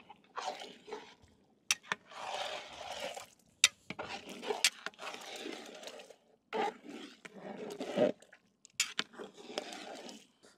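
Pumpkin curry being stirred and mixed in a pan in a village kitchen, with irregular scraping and clattering bursts against the pan, moderately close and fairly loud, with short pauses between strokes and no talk.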